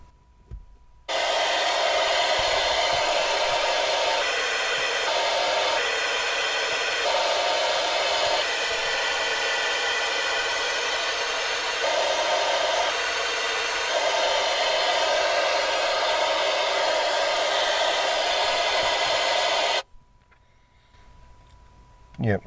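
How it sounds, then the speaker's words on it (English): Correlated pink noise plays through speakers as a loud, steady hiss lasting about twenty seconds, with slight shifts in tone partway through, followed by quiet. "let me just play some correlated pink noise, and let's do the polarity check, right?"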